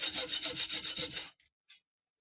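A short burst of rapid sawing strokes cuts a piece off metal stock while a half-round leather-working cutter is being made, close and brisk, stopping abruptly with a couple of faint scrapes after.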